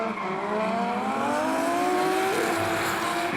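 A Nissan R32 Skyline drift car at a D1NZ drifting competition in Wellington, its engine holding a high, rising wail with tire squeal as it slides through a corner, loud and near, no talking.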